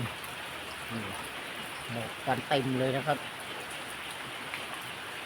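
Steady afternoon rain falls as a constant hiss across the whole stretch, with someone talking briefly partway through over the wash of the rain.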